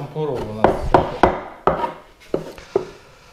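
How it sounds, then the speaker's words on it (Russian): A knife chops sweet bell peppers into small cubes on a board, six or seven sharp, close strikes at an uneven pace over a faint background murmur. "есть перцы сладкие, я тоже нарезаю кубиком мелко-мелко и туда"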